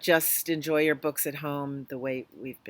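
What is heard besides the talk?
No everyday noise stands out behind the speech.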